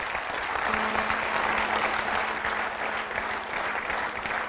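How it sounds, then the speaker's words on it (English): A corporate audience gives a sustained round of applause for an honoured colonel, a dense, even clatter of many hands filling the room with no talk over it. "I think he needs a big round of applause."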